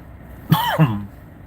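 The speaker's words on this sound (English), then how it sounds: "I'm still coughing up a little bit of stuff every now and then" A single raspy throat-clearing cough, two quick harsh bursts close by, then quiet.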